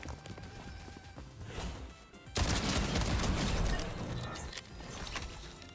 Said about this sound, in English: I've been liking this shotgun way more, though. It's so snappy.